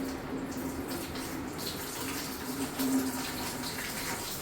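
Water is poured onto the keyboard of an Asus ExpertBook laptop during a spill test, a soft continuous trickle and splash, faint and steady throughout, with no talking.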